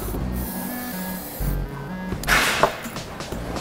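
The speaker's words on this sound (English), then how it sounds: "Give them a spray with a silicone" Silicone spray hisses onto vertical headrail parts in a workshop, one brief burst standing out over steady background hum and machinery clatter.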